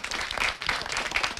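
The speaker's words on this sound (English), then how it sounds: "we can clap for each one" A short burst of applause, a small group clapping briskly for a moment at a StarCraft II WCS tournament quarterfinal.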